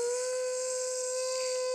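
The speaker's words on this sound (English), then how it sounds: "Mom's vacuuming." Loud, steady whine and hiss of a vacuum cleaner running inside the Roblox game Brookhaven, a constant drone with no break and no voices.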